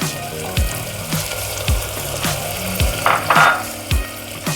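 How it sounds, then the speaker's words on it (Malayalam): Chilli goes into a pan of frying shallots for beef curry, bringing a loud close sizzle with repeated soft thumps and bubbling pops at an uneven rhythm. No one speaks. "എരിവിനാവശ്യമായ ചില്ലി ആണ് ഇടുന്നത്"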